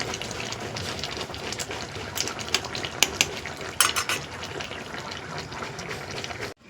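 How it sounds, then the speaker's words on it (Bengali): Shrimp curry with gravy, cooked with drumstick stalks, potato and papaya, is poured into a dish, giving soft wet splashes with scattered sharp clinks of a utensil against cookware, close and moderately quiet with no talk. "তরকারিটা ঢেলে নিয়েছি, লাল লাল ঝোল ঝোল।"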